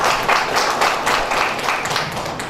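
Audience applause at an International Women's Day event held by an education society in Patiala, a steady wash of many hands clapping throughout, moderately loud, with no voices rising above it.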